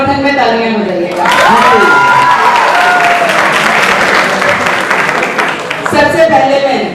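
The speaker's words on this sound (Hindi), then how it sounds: "आपकी तरफ से जवाब मैं दूंगी तो मेरे समर्थन में तालियां हो जाइएगा।" A poetry gathering crowd at IIT Roorkee bursts into loud applause with some cheering, a dense roar of clapping lasting several seconds, framed by someone speaking before and after.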